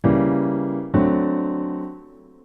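Two sustained chords, the second struck just under a second after the first, each ringing out clearly and fading slowly, with no voices.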